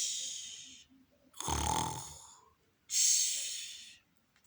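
A storyteller's voice imitates a sleeping bear snoring: a loud, rough snore burst in the middle, with breathy hissing exhalations before and after, close and alone.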